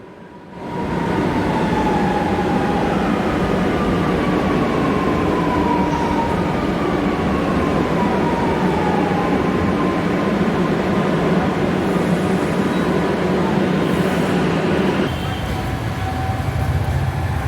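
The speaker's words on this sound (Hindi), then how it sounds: "एक और मेट्रो आ चुकी है" A Lucknow metro train rumbles into Munshi Pulia station, a steady loud roar with falling whine tones as it slows, then brakes and settles near the platform.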